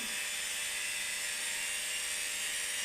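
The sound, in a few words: Parkside LIDL router running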